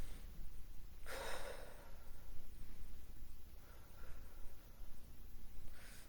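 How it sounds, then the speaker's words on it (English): A person draws one deep breath in, a single audible inhale close to the microphone, then quiet breathing afterward with no talking. "Let's breathe in."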